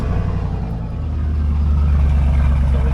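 Engine of a 1984 Nissan 300ZX Z31 running through a new exhaust tip, giving a loud, close, steady low rumble that swells slightly partway through, with no voices.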